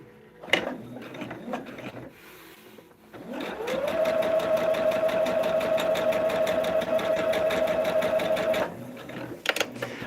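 A sewing machine stitches through quilt layers in one steady, loud run of about five seconds, its motor whine and rapid needle clatter held at a constant speed. A few brief handling knocks and clicks come before and after.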